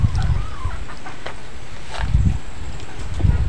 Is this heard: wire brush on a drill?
no